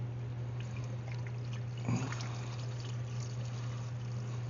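Blue-dyed water is poured and dribbled out of a Nissan EV, a steady close trickle running under a constant low electrical hum, with one brief louder splash partway through.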